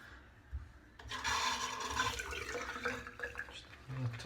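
A small splash of water is added to thick, rich La Toja shaving soap lather, giving brief wet swishing and rubbing sounds close by, under a voice.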